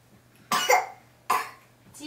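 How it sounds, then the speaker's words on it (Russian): A child coughs twice in a cold room, two short harsh bursts about a second apart, near and fairly clear, with a third cough just beginning at the end. "Видишь, уже кашлять начинает."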